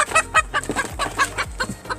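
A Pekin bantam rooster gives a quick series of close, rhythmic clucks, several short bursts packed into a couple of seconds with no voices over them.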